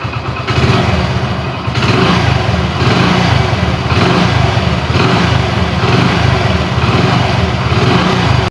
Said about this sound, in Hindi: नंबर 3 पे इसकी इंजन की साउंड है।